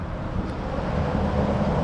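Constant roar of highway traffic on Interstate 287 heard from the Tappan Zee Bridge bike path, a dense broadband rush mixed with wind buffeting, loud and unbroken.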